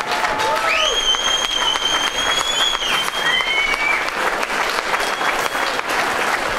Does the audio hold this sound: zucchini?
no